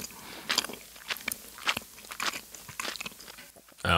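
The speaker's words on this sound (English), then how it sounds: "They were just going to hear me chewing really grossly." Close, wet chewing of Space Jam Sour Sneaks gummy candy, with irregular crunchy bites and smacking spread over a few seconds, ending in a brief louder rustle.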